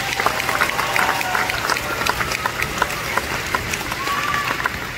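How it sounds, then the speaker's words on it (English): Audience applause at the Indiana Jones Stunt Spectacular show for the stunt technicians, dense crowd clapping spread across a large outdoor venue, with some cheering and a voice mixed in. "Please join me in, giving them all a well-deserved round of applause."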